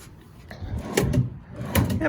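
Hotel room drawers slide open and shut at close range, two main scraping thuds with wooden knocks, while a person talks over them.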